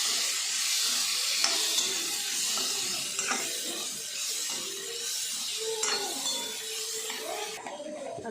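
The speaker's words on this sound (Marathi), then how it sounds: "आता याच्यामध्ये भिजवून घेतलेला आहे बघा कोबी तर हा कोबी टाकून घेते चांगलं परतून घेते" Soaked cabbage sautéing in a hot pan: a loud, steady sizzle and hiss runs throughout, with occasional scraping stirs close by.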